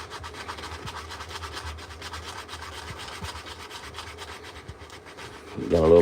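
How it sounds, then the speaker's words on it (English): Steady rasping of a sanding block worked back and forth across storm-damaged wood for spoon carving, continuous and fairly close, with a louder burst of noise at the very end. "let's get our little sanding block here."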